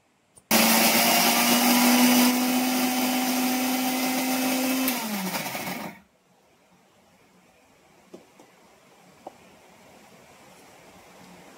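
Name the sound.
mixer grinder grinding batter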